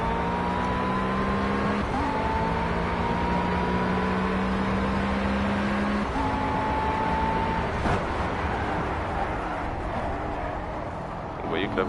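A race car engine in Project CARS hums and climbs in pitch as it accelerates and shifts on cold tyres, while a person talks over it.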